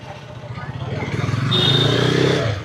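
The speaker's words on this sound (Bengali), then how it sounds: "ওদিকে প্রীতম তো বাইক স্টার্ট করেই দিয়েছে, আমাকে ছাড়াই" A KTM 250 Adventure motorcycle engine running after being started, a steady low rumble building in loudness toward the middle, with people talking nearby.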